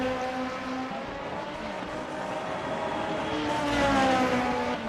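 Formula racing cars at Fuji circuit roar past with a high, sustained engine whine whose pitch shifts as they pass, loud and continuous with rising intensity near the end.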